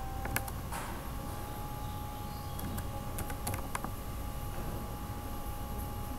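Typing on a computer keyboard to enter a component search in Proteus software, heard as a short run of faint, scattered key clicks over a constant hiss, with no talking.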